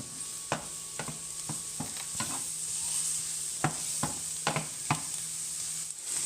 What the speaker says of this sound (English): I am gonna follow that with the black oyster mushrooms, and I'm just gonna saute this for a little bit